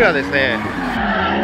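Drift car tires squeal and skid during a hot lap at a drift taxi event in New Zealand, a sustained screech with engine noise under someone speaking Japanese.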